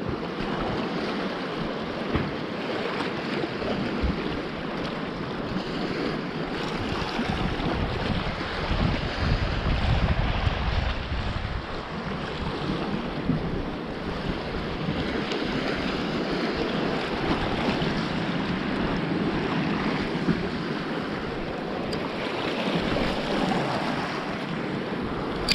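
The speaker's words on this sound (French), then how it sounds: "Les vagues qui viennent se fracasser sur" Ocean waves surge and crash against the edge with continuous churning wash and spray, mixed with steady wind buffeting the microphone from a boat at sea; no talking.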